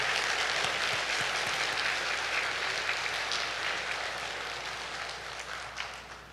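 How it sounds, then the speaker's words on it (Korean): A church congregation at Seocho Church applauds in encouragement of its elders and deacons. The clapping is dense and steady, loud at first and slowly thinning toward the end, with no voices over it. "참 잘하셨다고 우리 격려의 박수 한번 드리겠습니다."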